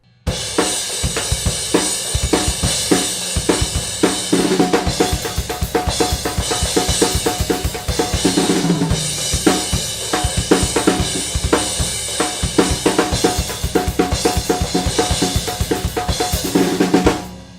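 A metal drum kit plays a steady mid-tempo beat, with loud, evenly spaced kick and snare hits under continuous bright cymbal wash, close and alone for the whole stretch.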